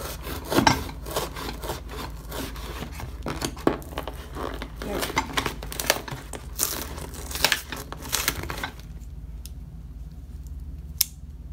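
Scissors cut open the unboxing packaging of a Go Power Sports 30 Series torque converter clutch, making close, scratchy rasping and crinkling snips in irregular bursts, then falling quiet.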